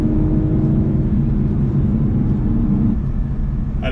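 Steady, full-bodied rumble of an Aston Martin naturally aspirated V12 running close by, loud and continuous with a slight dip near the end.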